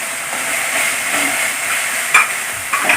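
Onion, curry leaves and ginger-garlic paste sizzle steadily in hot oil for a Kerala chicken curry, with a soft continuous frying hiss and a couple of sharper stirring scrapes near the end.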